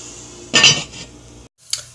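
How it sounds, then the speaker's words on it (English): A lid set over a heating pan of macaroni with mushrooms and veggie meat, a loud metallic clatter and clink at once, then quieter rattles and a final light tap, with no voices. "I'm just going to cover this and let the pan heat up a bit"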